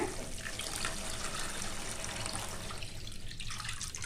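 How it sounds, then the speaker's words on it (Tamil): Steady rush of about 300 ml of water pouring continuously into a cooking pot for tomato chutney, a full broadband splash running the whole time with no talking. "ஒரு முந்நூறு எம்எல் தண்ணி சேர்த்துக்கலாங்க"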